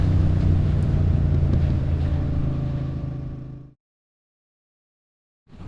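A 2025 Triumph Speed Twin 1200 RS motorcycle being ridden gives a loud, close, steady engine drone with wind rush, fading away before a sudden silence, then briefly returning at the end.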